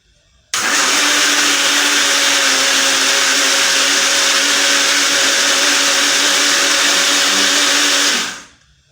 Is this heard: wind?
no